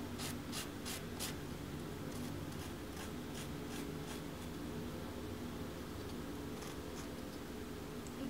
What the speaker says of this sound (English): I'm going to come in here with my nail file